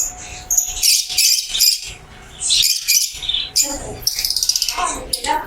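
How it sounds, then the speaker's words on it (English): Small parrots chirp and squawk in a rapid run of bright, shrill calls with short pauses, close by, at night in Zhaoqing, China. "Look at these little parrots."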